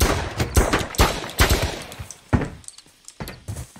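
Rapid bursts of gunfire in the video game Quarantine Z, loud sharp shots in uneven clusters with brief pauses between them and no talk.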